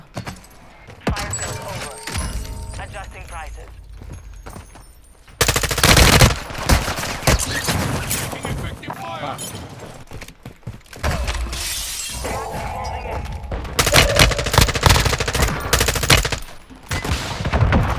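Bursts of M4 rifle fire in Warzone 2, loud and rapid, with sharp shattering crashes and overlapping volleys, and voices talking between and over the shooting.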